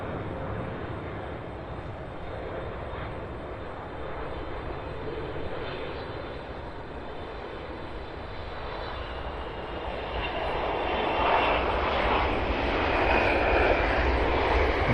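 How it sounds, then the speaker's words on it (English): DHL cargo jet, flight 538 from Hong Kong, landing at Cincinnati's CVG airport, a broad steady engine roar heard from outside that builds louder toward the end, with no talking. "I believe this is the first DHL landing on this channel."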